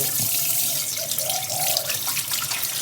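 Catfish being washed by hand under running tap water in a kitchen sink, a steady close rush of water with light splashing and sloshing, with no talk.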